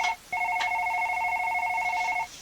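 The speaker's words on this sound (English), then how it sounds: "Oh, the phone's ringing." A telephone rings with a sustained electronic warble, one long ring after a brief opening chirp, fairly close and clear.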